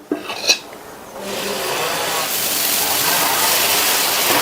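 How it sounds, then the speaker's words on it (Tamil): Dosa batter poured onto a preheated dosa griddle and spread thin, building into a steady close sizzle that swells after a few brief scraping clinks at the start, with no talk. "தோசையை ஊற்றிடலாம்."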